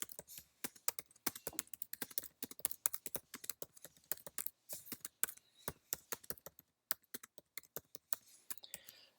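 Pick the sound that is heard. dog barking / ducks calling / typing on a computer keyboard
typing on a computer keyboard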